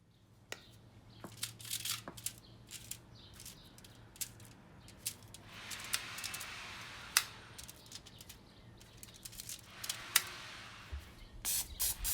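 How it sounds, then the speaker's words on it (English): Vegetable cooking spray misted onto Wagyu tenderloin before grilling, heard as two soft, sustained hissing sprays, each lasting a couple of seconds, among scattered clicks and small kitchen handling noises, fairly faint and without talk. "Now we're going to use some vegetable spray to help prevent the meat from sticking to the grill."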